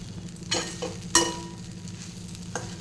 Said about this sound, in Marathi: शेंगदाण्याचा बारीक केलेला कूट टाकला आणि ते छान परतवून घेतलं